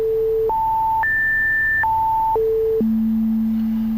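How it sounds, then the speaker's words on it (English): A Waldorf Blofeld synthesizer plays a pure single-cycle sine wave at the 32-foot setting, stepping up through several held pitches, back down, then settling on a sustained low tone, clean and alone. "That's a sine wave,"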